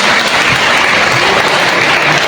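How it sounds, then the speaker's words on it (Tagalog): A church congregation applauding loudly during a worship service, dense continuous clapping filling the whole moment without pause. "Malakas na palakpak minsan pa sa ating Panginoon."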